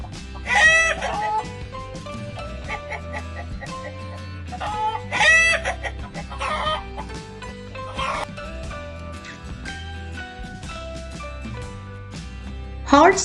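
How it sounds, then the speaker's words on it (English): Chicken clucks and rooster-like calls in short, repeated bursts, loud and close, with scattered clucking throughout and a couple of stronger squawks near the start and middle. "chicken sounds like"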